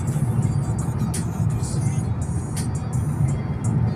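A car drives along a highway between Ottawa and Old Montreal, with a steady low road rumble and engine drone heard from inside, alongside faint speech.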